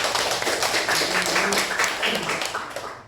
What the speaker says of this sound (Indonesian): Beri aplaus buat Iis ya